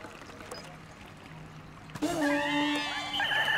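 Ice Pikmin drop into water in Pikmin 4, a sudden splash and pouring burble of game water that starts midway, following a quieter stretch, and then keeps running with bright tonal game sounds layered on top.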